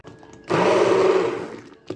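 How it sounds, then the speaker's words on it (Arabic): A kitchen blender whirs loud and close while pureeing tomatoes, a steady motor roar that starts abruptly, holds for about a second, then winds down. "بضرب الطماطم"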